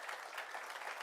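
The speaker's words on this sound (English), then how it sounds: "Let's give them a round of applause." Applause for the SA Under-19 men's cricket team at a capping ceremony, a brief, faint wash of clapping from a room full of people.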